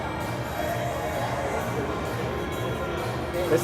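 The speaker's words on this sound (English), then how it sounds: "The crowd is excited, bumping to the music. They are on their feet." Excited hockey crowd at a Penn State Ice Lions versus Drexel game, a dense, steady roar of cheering voices with music beneath, sustained throughout at close range.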